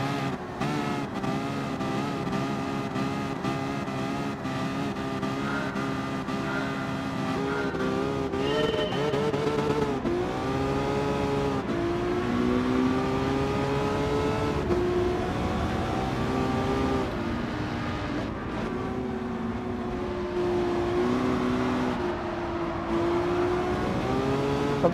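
Engine roar of a 2012 Ferrari F12berlinetta lapping Willow Springs' Big Willow track in Gran Turismo, revving up and down through gear changes with tire squeal, steady and loud throughout, no talk.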